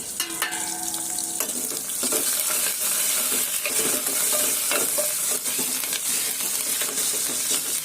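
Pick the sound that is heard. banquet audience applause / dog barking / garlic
garlic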